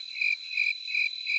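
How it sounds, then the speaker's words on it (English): Cricket chirping in steady pulsed bursts, a thin high-pitched trill repeating about every half second over a continuous shrill tone, alone with no talk. "Crickets."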